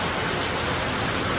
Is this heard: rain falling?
yes